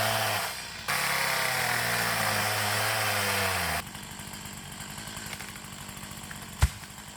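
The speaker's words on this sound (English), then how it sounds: "I'm going to cut it down with the chainsaw" A chainsaw roars loudly and steadily, the engine pitch shifting as it bites into a dead birch tree in the woods, ending with a sharp crack near the close.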